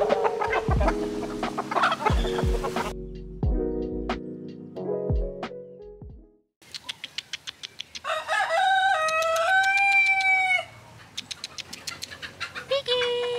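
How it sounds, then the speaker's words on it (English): Chickens cluck and crow nearby in Antigua, Guatemala: a drawn-out rooster crow, then a quick run of sharp clucks and another loud, rising crow. "I love the sound chickens make."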